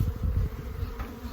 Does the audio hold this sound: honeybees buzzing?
yes